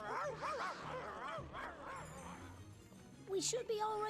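Wild dogs in an animated cartoon, excited yips, whimpers and barks close by, mixed with voices, ending in a sharp higher cry.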